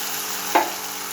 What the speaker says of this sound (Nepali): अब भुट्यो होइन, यसरी मजाले भुट्नुपर्छ है